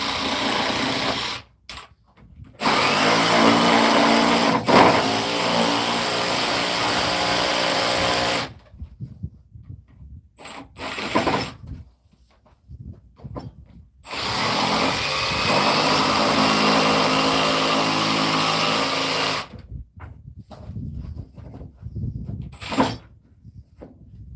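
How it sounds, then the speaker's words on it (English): Battery-powered router cutting a notch into a composite deck board, several loud high-pitched whining bursts of a few seconds each, separated by brief pauses and small handling clicks, close and without talk. "I'm going to use this battery on the router for now"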